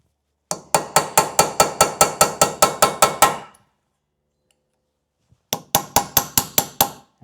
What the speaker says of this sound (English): we're going to stick a chisel in there